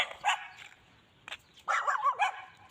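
A dog barks in short bursts, a couple of single yaps early, one brief bark in the middle, then a rapid cluster of loud, close barks near the end, with quiet gaps between.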